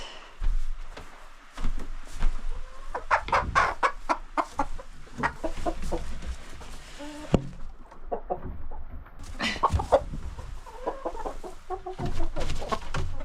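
Chickens clucking and murmuring inside a coop at roosting time, overlapping close calls with occasional louder squawks, continuous through the stretch with no talk.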